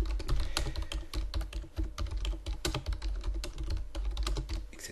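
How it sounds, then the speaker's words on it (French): Continuous fast typing of an email on a computer keyboard, dense clattering keystrokes close up and fairly loud throughout, with no voices. "Et puis là, vous allez taper le contenu de votre mail."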